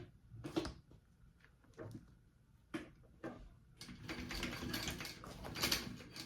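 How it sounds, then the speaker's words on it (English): Embroidery machine stitching a crossbody bag strap, its bobbin catching: sharp mechanical clicks and ratcheting bursts early, then a steady busy whir of the running mechanism, fairly close and without talk. "Bobbin got caught there. I can hear it."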